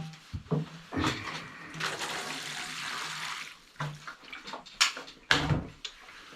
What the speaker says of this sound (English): Right, I'll give that a water.